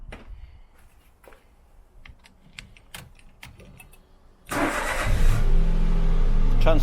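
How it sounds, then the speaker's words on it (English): A Citroen C1, Toyota Aygo or Peugeot 107 sits quietly while a few small clicks and taps sound, then the engine cranks and catches, settling into a loud, steady idle close by. "And then the proof's in the pudding if we can start the car."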